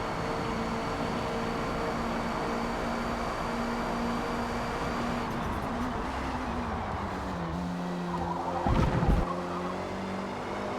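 Race cars in a racing video game run with a steady engine drone and tire squeal, then skid through a turn with a brief louder burst of screeching near the end, alone with no talk.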